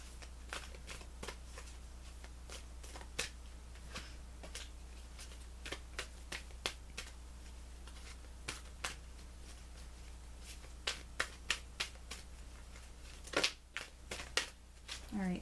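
Tarot cards being shuffled make sharp, scattered riffs and flicks, quiet and close, with one louder cluster of flutters near the end and no talking.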